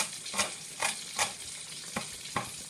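Fish steak frying in a pan, a steady soft sizzle with five or six sharper scraping stirs spaced roughly every half second, close and moderately loud, with no voices.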